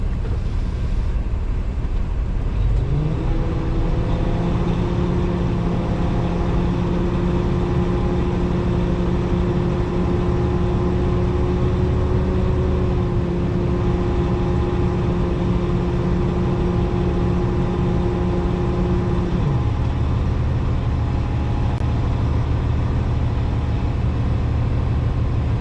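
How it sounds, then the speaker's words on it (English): A 2024 Freightliner truck engine idles with a loud, steady rumble while building air pressure, a sustained tonal hum rising and holding for about sixteen seconds before dropping off at governor cutoff. "We're going to build air pressure to governor cutoff between 120 and 140 psi on your air pressure gauge."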